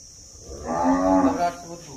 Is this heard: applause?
no